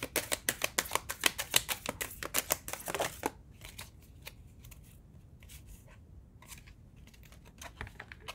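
A deck of message cards is shuffled in a quick, crisp run of riffling snaps for about three seconds, then softer scattered card handling follows over quiet background.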